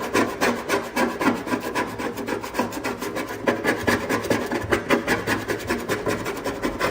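Excess rubber is torn and scraped off a car body panel during paintless dent repair, giving a close, loud, rapid run of rasping, scratchy strokes throughout.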